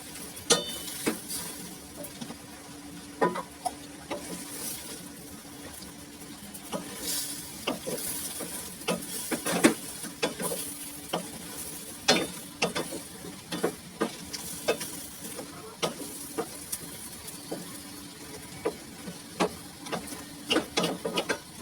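Butter sizzling in a pan as shrimp are stirred, a steady close fry hiss broken by frequent sharp clicks and scrapes of a utensil against the pan, with no talking.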